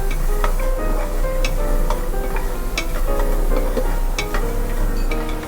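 Chilies, garlic and shallots dry-roast in a pan on an induction stove, giving a steady soft sizzle with light scraping and stirring clicks throughout, close and continuous, with no talking.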